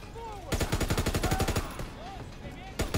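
MG machine gun fired in the World War II shooter game Call of Duty WWII, a long rapid burst of heavy, evenly spaced shots followed by two shorter bursts, loud and close.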